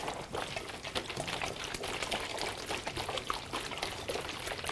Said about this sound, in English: Your tornado will materialise as the water drains into the bottom of the bottle